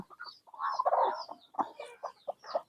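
A country hen with newly hatched chicks clucks close by in a steady run of short, soft clucks, with thin higher peeps mixed in.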